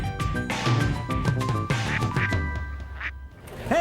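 Ducks at a lake quack loudly and close, a rapid string of overlapping nasal calls in quick bursts, one bird after another, with no talk.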